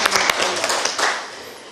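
Audience applause at a seminar on constitutional reform and women's representation, a short burst of clapping from a small room that fades out quickly.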